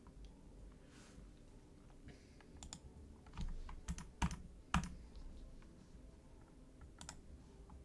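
A computer keyboard clicks faintly under a quiet room hum while someone types, scattered irregular taps with a few sharper, louder key strikes in the middle.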